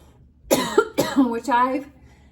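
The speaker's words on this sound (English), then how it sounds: "sorry for the coughing" A few harsh coughs in quick succession, close and fairly loud, with a short pause between bursts.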